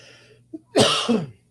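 A single close, harsh cough bursts out after a brief small throat sound, then silence follows.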